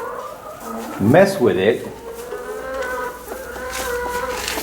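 A brooding hen clucks and growls in a burst of low calls, close by, while someone talks over and around it.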